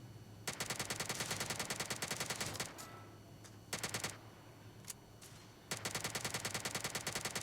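Rapid automatic gunfire from a gun in a criminal-themed video game, three long bursts of fast repeated shots with short gaps between them, loud and close.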